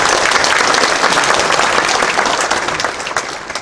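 An audience at a church general assembly of elders, during an opening worship service, breaks into loud, sustained applause that tapers off slightly toward the end.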